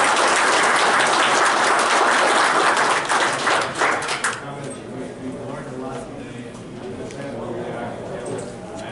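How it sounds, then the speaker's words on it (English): Applause from a conference audience for Secretary Valentine at a state and local transportation session, a loud, dense patter of many hands for about four seconds that then fades into murmuring voices and room noise. "I'll hope to give Secretary Valentine a round of applause."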